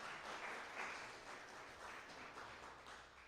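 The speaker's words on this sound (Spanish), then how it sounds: "Un aplauso para el ejemplo" A church congregation applauds during a sermon, a soft, fairly distant burst of clapping that holds steady for a few seconds before easing off.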